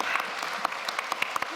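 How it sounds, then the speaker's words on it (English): Audience at a climate debate clapping, a brisk round of applause with distinct individual claps standing out, fairly close and steady for a short burst. "A round of applause, please."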